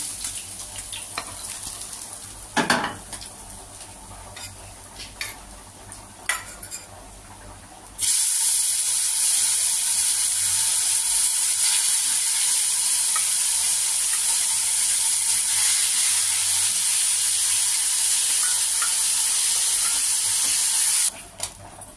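Bhola fish pieces go into hot oil, and a loud, continuous sizzle starts suddenly and holds steady for about thirteen seconds before stopping. Quieter kitchen clatter and knocks come before it.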